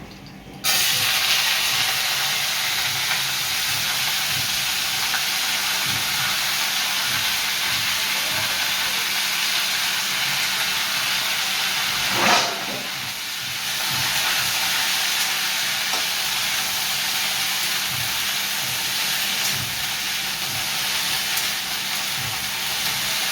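Pumpkin greens sizzle steadily in a hot pan as they fry for a mixed vegetable dish, a loud, continuous close-up hiss throughout with one brief sharper flare of crackle partway through and no voices.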